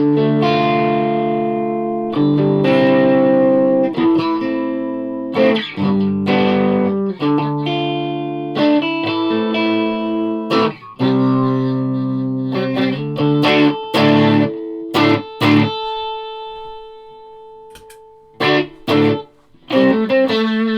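Electric guitar played through effects, with a distorted, chorused tone; chords and single notes ring out in bursts with short pauses between.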